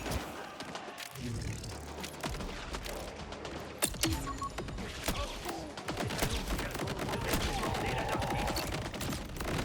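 Video-game gunfire in Borderlands 4: bursts of rapid shots and thuds fire repeatedly, loud and close, over an ongoing mix of combat effects.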